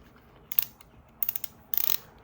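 Ratchet wrench from a Deko home repair tool kit clicking in three short close bursts of rapid ticks, separated by quiet pauses.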